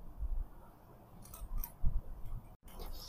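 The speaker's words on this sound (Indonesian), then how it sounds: "Lepas tu kita buat V punya sign ni dan kita gunting." Scissors cut a V notch into fabric near a seam for a Malay baju collar placket, giving a few quiet close snips amid soft handling noise.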